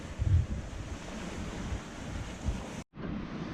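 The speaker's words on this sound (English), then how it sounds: "Quite gusty." Gusty wind and waves roar around a Hallberg-Rassy 54 sailing yacht under mainsail off Montserrat, a steady broadband rush with low thumps, briefly cutting out near the end before resuming.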